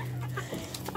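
Chickens cluck softly in a backyard flock at feeding time, a low continuous murmur of fowl with a few brief higher calls, steady and close throughout.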